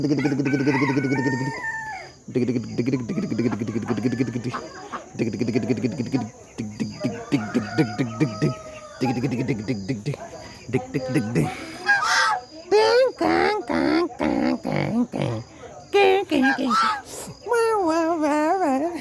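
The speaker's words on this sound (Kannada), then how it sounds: "ಇಲ್ಲೊಂದು ಕೋಳಿ ನೋಡಿ" A small chicken at a bird park on Kanakapura Road gives loud, close, drawn-out crowing and harsh honking calls, then a rapid run of clucks and squawks among other fowl.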